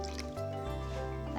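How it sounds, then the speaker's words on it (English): Milk pours into pancake batter for salmon and avocado pancakes, a close, steady liquid trickle and splash with a brief change in flow partway through. "the next thing to add is the milk"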